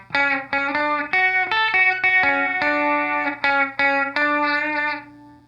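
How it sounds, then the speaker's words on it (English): Electric guitar played through a chorus pedal with a dimension knob, giving a shimmering slapback echo; a run of sustained, bright notes rings out alone and fairly loud with a watery doubled tail. "it has this dimension knob that adds a echo, a slapback effect"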